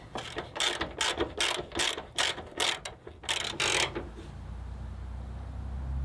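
A ratchet tightens a nut on the mount of a Maxpeedingrods 3.5-inch LED pod, giving a close series of rapid clicking strokes for about four seconds before quieting to low background hum.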